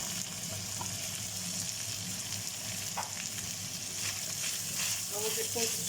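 Garlic, ginger and chilli sautéing with onions in a pan for a chicken curry, a quiet, steady sizzle with a few faint clinks and stirring sounds.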